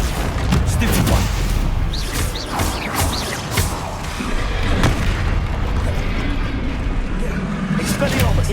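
Spell blasts and explosions in Hogwarts Legacy, a dense, continuous barrage of booming impacts and crackling bursts during combat, loud and close throughout.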